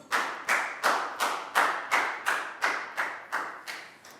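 A primary school class applauding in a maths lesson, heard as a slow, regular series of about a dozen loud, reverberant claps in a room, with no talk.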